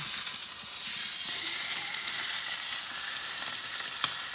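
A whole chicken sears in a hot pan before roasting, giving a loud, steady, close sizzle and hiss that holds evenly throughout with no speech.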